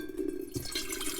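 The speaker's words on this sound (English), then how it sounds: "Right now, let's put in about 4 cups of water." Water from a tap or jug runs and splashes into the pot of a 12-cup percolator coffee maker, a steady close liquid gurgle and trickle with no speech.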